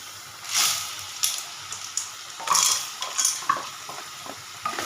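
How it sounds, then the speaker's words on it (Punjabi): Green peas tipped into a hot pan in a home kitchen, then stirred and sautéed. Close, clattering pours and scraping spoon strokes sound over a soft sizzle, with no talking. "ਹੁਣ ਇਹਦੇ ਚ ਪਾ ਦਾਂਗੇ ਮਟਰ"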